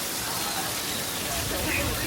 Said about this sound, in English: this is an overhead sprinkler system which shoots the water up in the air to let it fall back down to the earth naturally